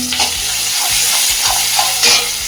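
Food frying in a hot pan stirred with a wooden spatula, loud close sizzling under rhythmic scraping strokes repeating about every half second, with no speech.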